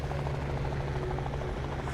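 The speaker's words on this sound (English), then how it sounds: "Military choppers!" Military helicopters in the video game Liberated, a loud steady rotor drone with a low, even hum that continues throughout with no voices.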